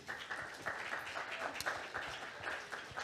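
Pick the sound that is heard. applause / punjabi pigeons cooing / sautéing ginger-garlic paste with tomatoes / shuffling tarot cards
applause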